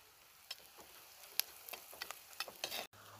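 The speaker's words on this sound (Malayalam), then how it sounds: "എന്നിട്ട് ഇതൊന്ന് വാടി വരുന്നവരെ നിങ്ങളൊന്ന് ഇളക്കി കൊടുക്കുക" Onions with salt fry in a pan for a coconut milk egg curry, giving a faint sizzle broken by scattered scrapes and taps of a spoon stirring. The sounds are quiet and irregular, and there is no speech.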